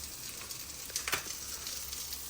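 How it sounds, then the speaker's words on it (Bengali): Tengra fish frying in a pan gives a soft, steady sizzle, with a few brief louder crackles and spits near the middle, fairly quiet and with no talking. "বাংলাদেশ থেকে আনা ট্যাংরা মাছ এখন ভাজি করব"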